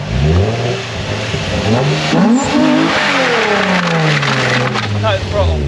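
A Nissan 350Z engine revs loudly up and down, rising and falling as the throttle cuts in and out, close and continuous with people talking over it.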